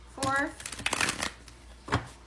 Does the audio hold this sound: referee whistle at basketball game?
no